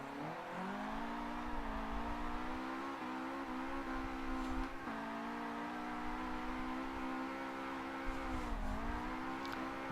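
In Forza 7, a Nissan S15 drifts with its engine droning and rising and falling as the revs shift, with occasional tire squeal over a steady, continuous roar.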